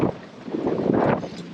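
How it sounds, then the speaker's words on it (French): Strong wind of 20-25 knots blows across a sailboat at anchor, making a loud, continuous rushing roar that swells and eases in gusts. "Ça fait 1h30 que ça souffle à 20-25 nœuds."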